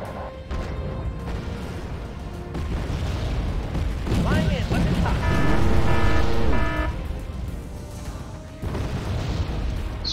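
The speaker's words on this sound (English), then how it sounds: "get the fighters to just kind of come in here and drop a big bombs on them" Fighter jets drop bombs in the video game Wargame AirLand Battle: loud, low booming explosions with roaring engine and siren-like whines, continuous and dense through the stretch, no speech.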